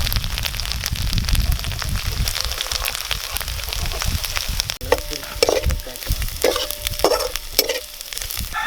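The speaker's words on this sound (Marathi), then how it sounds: "तेल गरम झालेलं आहे आपलं आता, तर तेलामध्ये हा मसाला चांगल्या प्रकारे भाजून घ्यायचा आहे" Spice masala roasts in hot oil for a village-style mutton curry, a loud constant sizzle with stirring scrapes and, later, several distinct knocks of the spoon against the pan.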